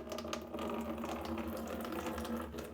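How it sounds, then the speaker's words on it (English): Indoors, fertilizer-laced water is poured onto a potted plant and drains through into a bucket beneath it. The pour makes a steady, continuous splashing rush that stays loud and close throughout. "So I'm gonna water it."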